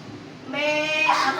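A voice imitates a goat bleating, a short wavering tonal bleat lasting about a second, close and fairly loud in a primary school classroom.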